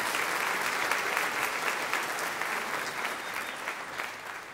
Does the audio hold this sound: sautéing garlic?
no